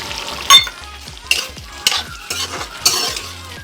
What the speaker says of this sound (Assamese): আৰু এতিয়া মাছৰ মাথাখিনি ভালদৰে এনেদৰে লৰাই সিজিবৰ কাৰণে থ'ব